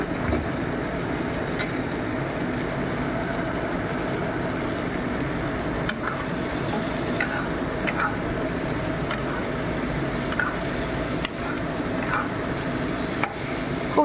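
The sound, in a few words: boiled pasta added to pan and stirred, sizzling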